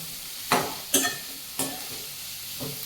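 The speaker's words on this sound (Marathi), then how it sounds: "तर आता कांदा आपला भाजला आहे तुमच्याकडे बोलता बोलता, आणि हे आता चांगलं आपल्याला परतून घ्यायचं।" Onion being stir-fried in a pan for a Marathi kantoli bhaji dish, with three or four distinct scraping stirs over a low steady sizzle, close and clear with no talking.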